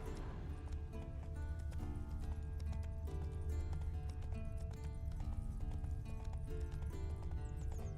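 Horse named Roach galloping in The Witcher 3 video game, a steady rhythmic clip-clop of hooves running continuously under dense game music and ambience, with no pauses throughout.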